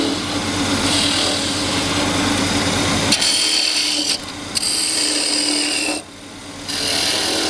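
Green maple spins on a wood lathe while a cutting tool scrapes and shaves it, a loud steady rasping hiss with a constant motor hum, briefly dropping away twice before resuming.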